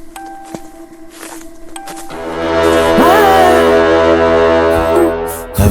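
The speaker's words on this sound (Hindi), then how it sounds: "तभी अचानक एक भयानक ट्रक का हॉर्न पूरे जंगल में गूंज उठा।" A truck horn blares in a forest in a horror story, starting after about two seconds of low creaking and then holding one loud, steady, droning blast for several seconds before cutting off.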